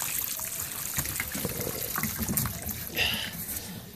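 Dirty water gushes and trickles steadily as it drains out through the filter opening of a front loader washing machine, close and continuous with small splashes.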